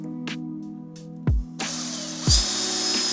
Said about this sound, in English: it's actually time to drill the hole. I'm gonna use a smaller drill bit at first